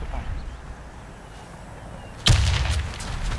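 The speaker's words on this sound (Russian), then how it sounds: "Это снайпер." A sharp, loud sniper rifle shot in the video game Warface cracks out once partway through, followed by a short booming tail, after a quieter stretch of low background game noise.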